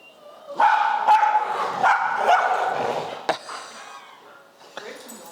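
A dog growls and snarls in harsh, rising bursts, close by, with a few sharp yips breaking through near the end.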